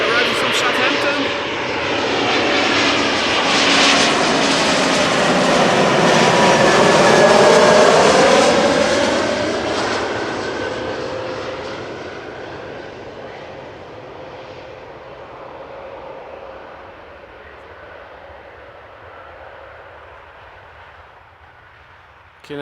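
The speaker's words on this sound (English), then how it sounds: "Embraer 190 arriving from Southampton." An Embraer 190 jet airliner arriving at Amsterdam Schiphol Airport roars past close by, its whine and rumble swelling to a loud peak with a sweeping pitch change, then slowly fading into the distance.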